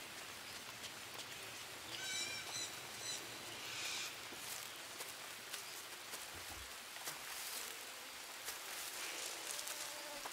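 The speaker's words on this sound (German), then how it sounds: "Aber übrigens, es regnet, ne?" Rain in the jungle of the survival game Green Hell, a soft continuous patter of drops with faint insect chirps and a few scattered louder taps, quiet and even throughout.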